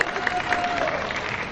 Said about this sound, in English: Oh, she gets a big round of applause.